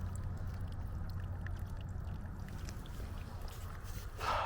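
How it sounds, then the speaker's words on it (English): Water steadily pours and trickles out of one-gallon jugs pierced by .380 rounds from a Taurus TCP 738 pistol, a continuous close splashing flow that swells slightly near the end. "as you can see, that water's draining out"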